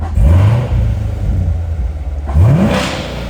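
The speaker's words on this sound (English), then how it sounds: "Give it a couple revs for you guys." A 2017 Chevrolet Corvette C7 Grand Sport's V8 engine revs hard twice, each rev climbing sharply then settling back into a deep, loud idle rumble.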